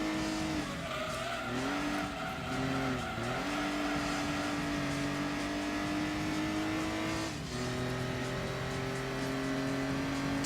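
Car engine in the Gran Turismo 2 racing game, a small Suzuki or Subaru one-make race car, holding a steady high drone with rising pitch sweeps through gear changes and a brief lift near the end, continuous and close.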